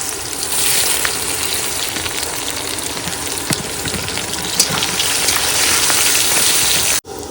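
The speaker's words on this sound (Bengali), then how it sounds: "আগে পেঁয়াজটাকে ভালো করে ভেজে নেব।" Onions fry in a pan, giving a loud, steady, dense sizzle that crackles continuously for several seconds before cutting off abruptly near the end, with no talk.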